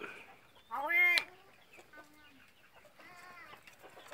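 A hen-feathered rooster gives a loud, close burst of calls, followed by softer scattered clucks and a further run of clucking, with faint voices in the background.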